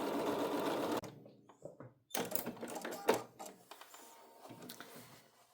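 A sewing machine stitches two fabric strips together for strip piecing, running in short bursts with pauses and small mechanical clicks, moderately loud and close with no talking.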